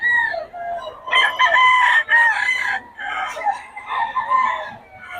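Gamefowl roosters crowing repeatedly at close range, loud drawn-out calls overlapping with some clucking, with no talk.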